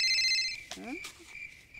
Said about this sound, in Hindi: ए माई रे मोर ससुरार से फोन हो